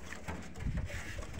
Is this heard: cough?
no